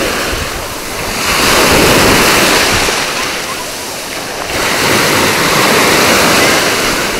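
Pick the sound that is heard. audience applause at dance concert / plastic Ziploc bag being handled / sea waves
sea waves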